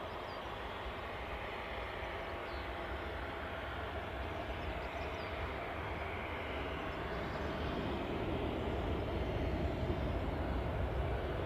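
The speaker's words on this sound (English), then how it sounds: "let's track back with Ryanair's 737, recently landed from Gdansk" A Ryanair Boeing 737, just landed from Gdansk, gives a steady, fairly quiet rumble of jet engines and taxiing noise at Newcastle airport, continuous throughout and swelling slightly toward the end, with no voices.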